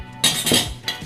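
A metal spoon clinks and scrapes against a bowl while mashing ripe banana for sweet banana appam batter, a few close, bright taps in quick succession.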